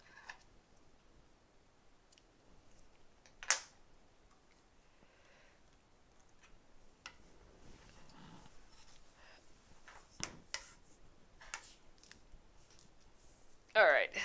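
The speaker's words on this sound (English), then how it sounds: "we will snip that" Small scissors snipping embroidery thread close by, a few scattered crisp clicks and snips in a quiet room, with the loudest cuts near the start and again at the very end.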